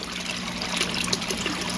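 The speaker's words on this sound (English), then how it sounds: "You got water filling in here, and it's coming over to here." Water trickles steadily into a bucket feeding an aquaponics bell siphon, a soft continuous dribble with faint splashes, close up and alone.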